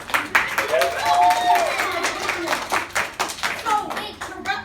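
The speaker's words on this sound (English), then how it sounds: "Give yourself a round of applause." Children in a classroom clap for themselves during a reading fluency lesson, a burst of quick uneven hand claps mixed with excited kids' voices and chatter, close and lively before tapering off.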